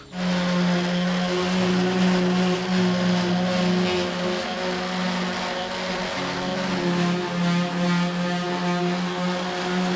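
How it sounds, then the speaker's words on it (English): A plug-in electric sander works on a caravan, giving a loud, steady motor buzz with a strong humming drone that wavers slightly in pitch, continuous for the whole stretch with no talk. "I'm going to carry on sanding a bit."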